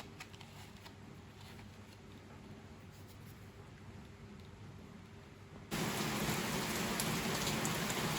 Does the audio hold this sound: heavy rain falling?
yes